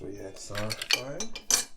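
A utensil clinks and scrapes against a bowl while the ingredients for a Jamaican-style bread pudding are mixed, with irregular ringing taps close by.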